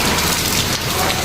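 Heavy rain pours steadily in Davao City, a dense, loud, unbroken hiss of drops hitting surfaces with no voices.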